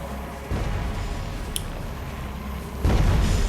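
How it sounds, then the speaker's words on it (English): Explosions in the video game Elden Ring Nightreign come as heavy, continuous low rumbling booms, loud and sustained, with a swell in intensity toward the end. "trying to avoid those explosions"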